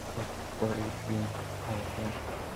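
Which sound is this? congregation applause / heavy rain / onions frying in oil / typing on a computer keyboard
heavy rain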